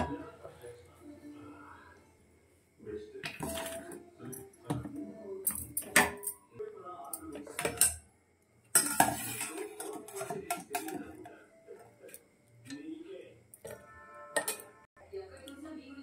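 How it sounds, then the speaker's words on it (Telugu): Whole chillies drop into a mixer jar with light, scattered clicks and taps, broken by short pauses and joined by a voice talking now and then. "ఒక మిక్సీ జార్ తీసుకొని ఇప్పుడు అందులోని ఈ మిరపకాయలన్నీ వేసేసుకుందాం"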